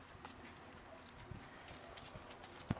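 A newborn foal moves about on hooves, giving soft, scattered clip-clopping steps over a low background, with one sharper, louder hoof knock near the end.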